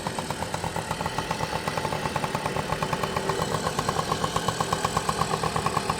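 A Yamaha Galaxy motorcycle engine, freshly fitted with a new cylinder and piston, idles steadily nearby through its quiet stock exhaust, its even, rapid putter pulsing throughout and a light mechanical clatter underneath.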